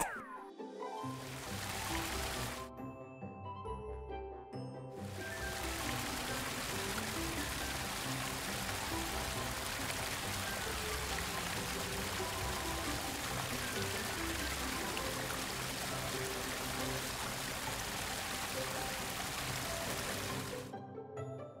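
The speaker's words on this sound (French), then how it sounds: "moi, je vais laver la petite assiette." A small toy plate is washed under running water, with a steady close stream from a tap that runs almost continuously, briefly interrupted near the start, then cuts off at the end.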